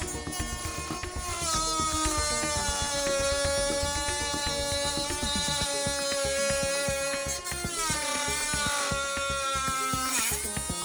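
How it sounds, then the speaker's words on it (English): A Dremel rotary tool cuts away damaged sections of an Atari 800 plastic case, a steady loud high whine with layered overtones that dips and shifts in pitch as the bit bears into the plastic. "Here comes the Dremel."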